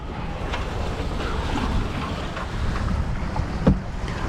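A MacGregor 26 sailboat under sail in the Florida Keys, with a steady rush of wind and water across the hull and one brief knock near the end. No one speaks.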